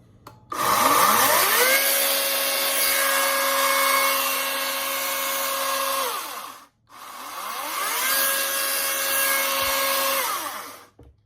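A small GreenWorks Pro 80V battery chainsaw whirs up to a steady high-pitched drone, cuts off briefly, then spins up again and runs steadily indoors; fairly close, no talking.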